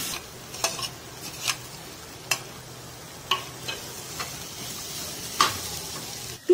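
Boiled, mashed potatoes are stirred into a crackling curry-leaf tempering in a pan, with a soft steady sizzle broken by sharp, intermittent spoon scrapes and clinks against the pan.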